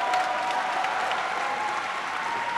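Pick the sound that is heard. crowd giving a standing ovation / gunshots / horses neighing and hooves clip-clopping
crowd giving a standing ovation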